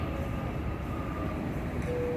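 A commuter train at Ogikubo station on the Chuo Line in Japan, giving a steady, loud, continuous rumble with faint tonal whine from the railcars and no talk.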